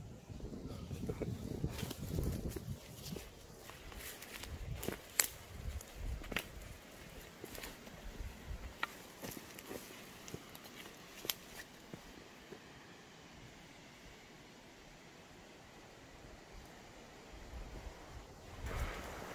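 Strong wind gusting across a mountainside during a mushroom-hunting hike, a steady loud rush with buffeting against the microphone, heavier in the opening seconds and easing later.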